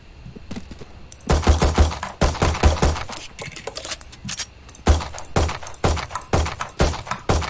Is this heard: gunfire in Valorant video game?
yes